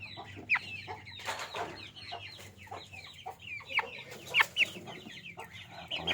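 Brahma chickens cluck in short, repeated bursts over a steady low hum, with several calls standing out louder near the middle and end.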